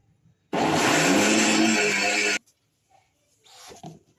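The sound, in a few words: mixer grinder grinding soaked lentils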